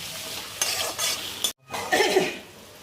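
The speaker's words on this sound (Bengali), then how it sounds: "এখন এগুলো এর সঙ্গে একটু নরম করে ভেজে নেব" Tomatoes sizzle and crackle in a hot pan while a utensil stirs them. A brief moment of silence falls midway, then the frying resumes close by.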